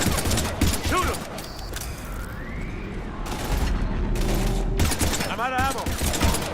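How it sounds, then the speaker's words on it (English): Sustained gunfire from a sci-fi firefight in Mass Effect, with bursts and booms running through the whole stretch, interrupted by intermittent shouted voices and a rising electronic whine. "We're taking heavy fire."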